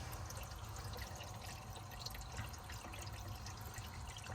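A toilet cistern refilling through its fill valve while the valve is held down, under awful water pressure, produces a faint, steady trickling and hiss of running water throughout, with no voices.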